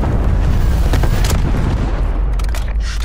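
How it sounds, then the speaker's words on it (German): A grenade detonates in Black Ops Cold War multiplayer, a loud, deep blast whose rumbling roar fills the whole moment and slowly trails off, with no voices. "Granate geht raus."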